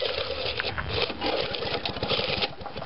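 A small piston engine running with a modified cutaway part fitted, giving a fast, rough, buzzing mechanical rattle that holds steady and loud for the whole stretch, close up, with no talking.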